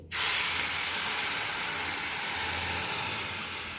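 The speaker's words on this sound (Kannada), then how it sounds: "ಈಗ ಇದಕ್ಕೆ ಹಸಿ ಹಾಲು ಅಥವಾ ಕಾಯಿಸಿರೋ ಹಾಲು ಯಾವುದಾದ್ರೂ ಹಾಕ್ಕೊಳ್ಳಿ" Milk poured into a hot pan of roasted vermicelli for payasa sets off a sudden loud hiss that settles into a steady, steamy sizzle close by.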